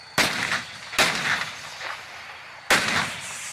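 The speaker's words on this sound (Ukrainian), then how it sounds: "А це артилерія терористів неподалік Дебальцевого." Three heavy artillery shots near Debaltseve, Donbas, boom in sequence, each a sharp loud blast followed by a rolling echo, with a longer gap before the third.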